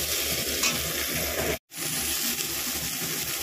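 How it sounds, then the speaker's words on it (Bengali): Onion fries in oil in a pan while dal makhani is being prepared, giving a loud, steady, close sizzle that breaks off for an instant and then resumes. "একটা পেঁয়াজ ভাজার মতো তেল দিয়েছি"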